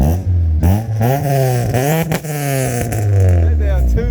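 Honda F20B engine holding a loud two-step launch limiter, a steady rough popping drone close to the microphone with slight dips and rises, with voices talking over it.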